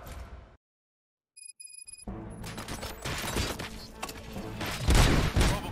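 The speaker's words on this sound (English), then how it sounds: "Gunshots? What's going on?" Gunfire in the RoboCop Rogue City video game, a dense, crackling burst of shots and impacts that follows a brief silence and a few electronic beeps, growing louder toward the end.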